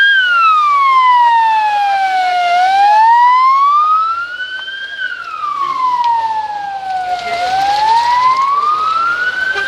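Ambulance sirens arrive at the scene of an overturned bus crash, a loud, close wail that sweeps slowly up and down in pitch, continuous for several cycles with no talking.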